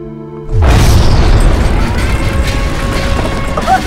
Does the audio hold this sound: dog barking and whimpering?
no